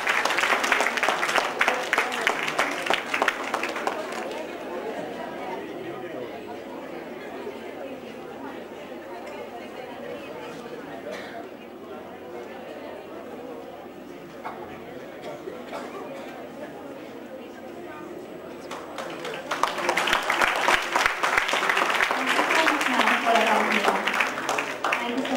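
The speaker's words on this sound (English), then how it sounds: "Let's have a huge round of applause for Madhvi Sinha ma'am for her interactive s" Audience applause at a live technical session, loud clapping at the start that fades into murmuring chatter and then swells again near the end, with voices talking under it.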